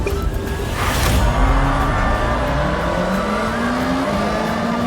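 A car engine roars in a Forza Horizon rally race, revving and shifting gears with rising pitch sweeps and some tire noise, loud and continuous without talk.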